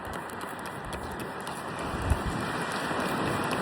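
Steady wind sweeping across a beach, a broad continuous rushing hiss with faint buffeting against the microphone and one brief low thump, lasting throughout with no talking.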